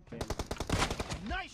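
Rapid gunfire from PUBG Mobile rattles off as a quick burst of about eight close, sharp shots, followed by a short electronic game cue.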